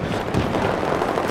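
Continuous battlefield din from Battlefield 4 during a close-quarters round, with dense gunfire and explosions erupting nearby in a steady, loud wash of shots and blasts with no talking.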